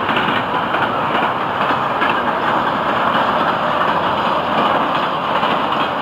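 A loud, steady rumble and rattle of a passing FEC freight train with UPS trailers at the rear, rail cars clacking continuously with no pauses, close by.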